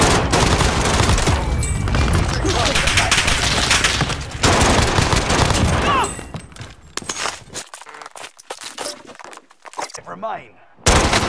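Video game gunfire rattles in near-continuous automatic bursts, loud and dense for several seconds, then thins into scattered sharp shots with quieter gaps.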